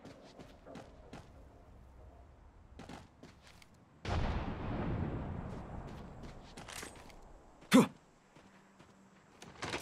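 A grenade goes off in Apex Legends with a sudden, fairly loud explosion partway through and a rumbling decay after it, followed by a sharp nearby bang, between quieter in-game noises.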